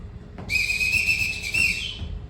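A sharp, shrill whistle blown to summon the children in a youth stage production of The Sound of Music: one sustained piercing blast with a slight wavering pitch, loud and close, and no talking.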